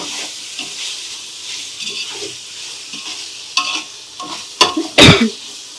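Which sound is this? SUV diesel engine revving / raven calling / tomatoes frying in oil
tomatoes frying in oil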